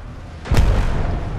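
An arc star grenade in Apex Legends goes off as a single sudden blast with a deep, rumbling tail that fades out over the next second.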